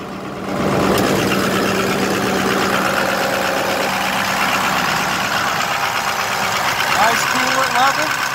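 A 2007 Ford F350 Powerstroke diesel pickup engine holding a high idle under the hood, a steady close rumble with clattering diesel knock and a faint whine, continuous after a quick rise at the start.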